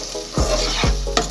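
Egg going into onions frying in a pan for chowmein, with a close sizzle and two or three quick stirring scrapes over a brief span.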